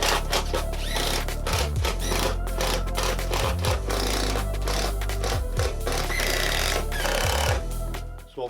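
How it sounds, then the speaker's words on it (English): A power driver drives screws into a VW camper poptop in repeated loud bursts, each run of the motor ending in a brief drop in pitch as a screw seats, with no one speaking. "So now I'm just going to screw all these screws in here."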